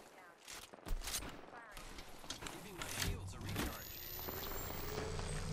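Apex Legends gunfire in a ranked match: bursts of rapid shots at a distance, mixed with game effects and movement noise, under players' voice chat.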